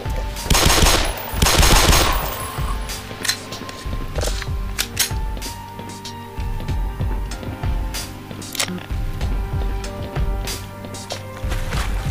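Pistol fire in the video game Black Mesa: several loud, sharp shots that begin as heavy bursts and turn into a rapid run of crisp single cracks with short mechanical clicks between them.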